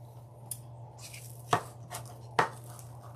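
Scissors cut off protruding pieces of purple and green deco mesh on a summer wreath, giving a few sharp close snips spaced apart in a quiet room.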